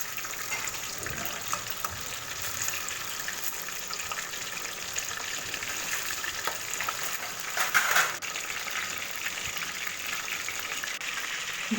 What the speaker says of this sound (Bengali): এইভাবে লেগগুলোকে একে একে দিয়ে খুব ভালো করে ভেজে নিতে হবে